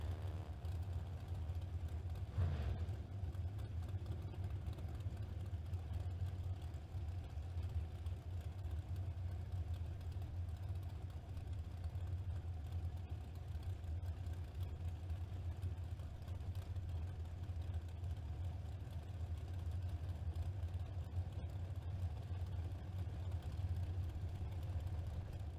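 A 2022 American chassis dragster and other drag racing cars idle at the track, a steady low engine rumble that holds evenly throughout without revving, heard from a moderate distance.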